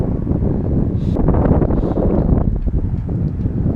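Strong wind buffets the microphone nonstop while fishing from a boat, a loud broadband rumble with gusty swells and no talking.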